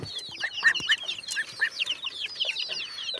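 Chickens loose in a garden cluck and chirp in quick, overlapping high calls, fairly close and lively, with no talking over them.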